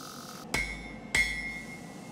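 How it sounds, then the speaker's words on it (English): Hammer forging a Damascus steel WWII Shashka saber blade, two sharp ringing metallic strikes about half a second apart, each leaving a bright lingering tone. "Hammer in the bevels a little bit, hammer in the tip, hammer out the tang."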